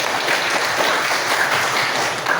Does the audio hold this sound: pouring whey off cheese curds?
no